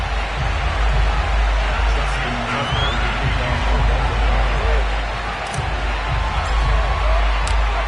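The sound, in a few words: Baltimore stadium crowd in EA Sports football video game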